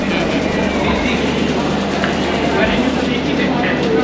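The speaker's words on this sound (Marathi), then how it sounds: "अरे वा ट्रेन तर आलेली आहे" A train arriving at a station rumbles loudly and continuously nearby, with rhythmic clacking and steady mechanical noise filling the whole stretch.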